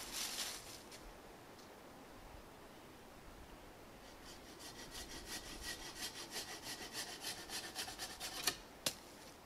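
A hand saw rasps through a wooden wedge alone, starting faint and irregular, then settling into quicker rhythmic strokes that end with two sharp snaps.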